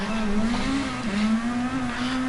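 A rival race car's engine holds alongside in a racing game at Fuji Speedway, a steady, close droning engine note with a slight waver in pitch and no talk over it.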